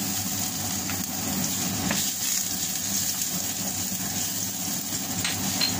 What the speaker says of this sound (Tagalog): Unahin natin igisa ang bawang.